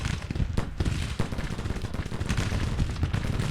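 Massed battlefield gunfire in the Civil War strategy game Grand Tactician, a dense continuous rumble of rifle volleys and heavy booms that rolls on without a break, with no voices.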